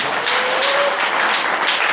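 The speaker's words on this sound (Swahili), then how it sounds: "Pigia Yesu Kristo makofi." Church congregation at a Pentecostal service claps together, a dense, even burst of applause from a crowd filling the room, steady and close for the whole short stretch.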